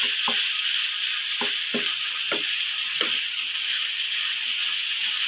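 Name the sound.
stirring potatoes frying with canned beef in a pan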